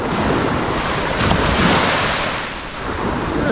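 Sea waves breaking on a Norfolk beach, a loud, continuous wash of surf with wind buffeting close to the microphone, swelling and easing slightly with no voices.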